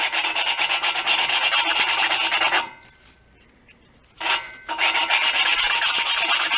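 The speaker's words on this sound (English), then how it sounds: "And that very fine sandpaper action does that." Fine sandpaper rubs back and forth over the mating surfaces of an engine part on a 1969 Amante GT barn find, giving loud, steady rasping in two long passes with a short quiet pause between them.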